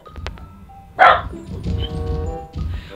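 A single loud dog bark rings out near the start, then low rumbling background noise from the wrestling video game Wrestling Empire continues with faint murmurs.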